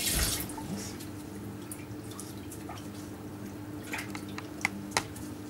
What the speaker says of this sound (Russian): Сначала я наливаю в кишку водичку